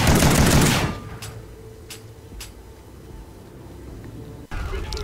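Bulldog shotgun blasts in a video game, one loud burst at the start followed by a few faint sharp cracks and a quiet ambient stretch, then another blast near the end.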